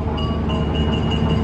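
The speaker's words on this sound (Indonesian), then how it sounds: "Kereta api Cukurai, kereta api PSO subsidi dari pemerintah" A Cukurai subsidized passenger train runs past at a station, giving a dense, continuous rumble with a steady metallic whine on top, loud and close, with no talking.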